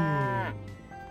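A cow moos once, close and fairly soft, in a single drawn-out low call that falls in pitch and fades.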